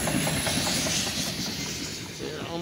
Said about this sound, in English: westbound unit tank train in the borough.